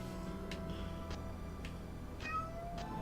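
Cat meowing in the video game Valkyrie Profile, a few short soft meows over a steady low game-music bed, fairly quiet.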